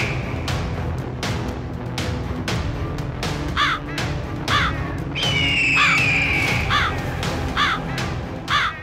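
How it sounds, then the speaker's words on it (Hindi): Crows gather in trees outside Civil Hospital Karachi around a kite tangled in string, cawing harshly and repeatedly at close range, with one high, thin whistling cry cutting through midway. "डोर में फंसी चील तकलीफ से चिल्लाई तो कौवे भी जमा हो गए।"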